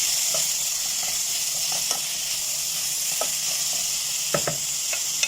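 Coriander powder, black pepper and salt sizzle in a pan for a vegetable white soup, a constant close hiss with soft scrapes and taps of a stirring spoon scattered throughout.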